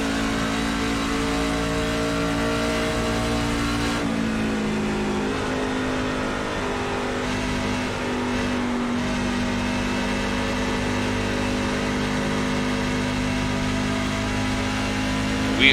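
Several NASCAR truck engines droning together at Pocono in iRacing, a loud continuous roar with shifting pitch and brief dips as the field runs in a pack, sustained for the whole stretch.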